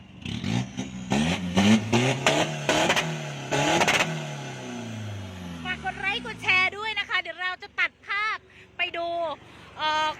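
Mitsubishi L200 diesel pickup with a six-speed gearbox, its engine revved in several sharp bursts up close, then winding down, after which someone talks in short phrases.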